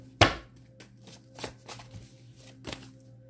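Tarot cards being shuffled by hand: a sharp riffle near the start, then a few softer shuffling bursts spaced about a second apart, close up over a steady low hum.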